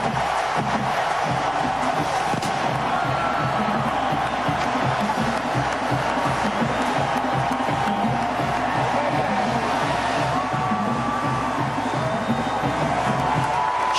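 A packed college football stadium roars as the Miami Hurricanes take the field against Clemson, a dense, loud, sustained wall of cheering, whoops and shouting that holds steady throughout without a break.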